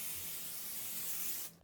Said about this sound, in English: I'm going to give this a little shake, and I'm going to spray.